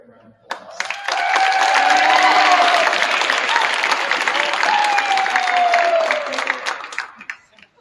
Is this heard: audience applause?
yes